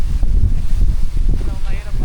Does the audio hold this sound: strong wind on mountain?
yes